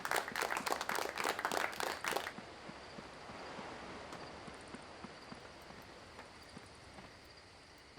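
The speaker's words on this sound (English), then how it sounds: "Here's your applause." Applause sound effect played during a Dark Age of Camelot stream on the Phoenix free shard, with a burst of clapping for about two seconds that cuts off abruptly, followed by a quiet hiss.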